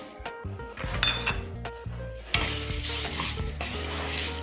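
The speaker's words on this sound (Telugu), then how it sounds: "ఒక కప్పు శనగపప్పు, ఒక అరకప్పు మినపప్పు వేసుకుందాం." Chana dal and urad dal tipped into a pan for dry roasting for bitter gourd powder, a rattle of dry lentils and clinks of a spoon against metal, then a steady stirring scrape and sizzle up close.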